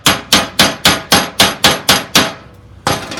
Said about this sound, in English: make sure you chip away the flux